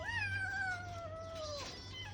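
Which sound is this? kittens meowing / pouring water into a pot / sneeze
kittens meowing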